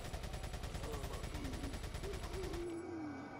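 Rapid automatic fire from a TMP in Resident Evil 4, a fast even rattle of shots lasting about two and a half seconds before stopping abruptly, with faint game sounds behind it.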